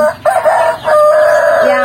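A rooster crows loudly and close by inside a chicken coop on a small poultry farm, a drawn-out cock-a-doodle-doo with chickens around.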